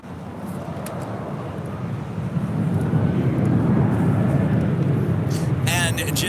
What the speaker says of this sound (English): runway 24 left, please take off.